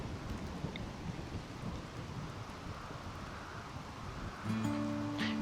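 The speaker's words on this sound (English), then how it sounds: "At least now it's raining." Steady rain with a low thunder rumble in the video game Rimworld, a continuous hiss, with a faint tonal game sound coming in near the end.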